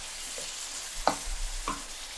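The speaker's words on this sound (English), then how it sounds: "So we're gonna add coconut milk now." Coconut milk poured into a hot spice-filled pan, giving a low sizzle and stir with two brief splashy bursts, close and fairly quiet, no talking.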